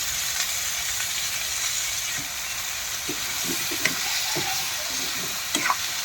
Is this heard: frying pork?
yes